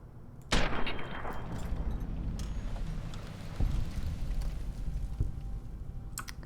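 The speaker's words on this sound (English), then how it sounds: "this is a BB gun, by the way." A BB gun fires in the video game Fallout New Vegas, opening with one sharp crack followed by a few quieter pops and clicks over a steady ambient game background.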